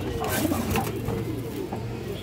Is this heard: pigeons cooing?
yes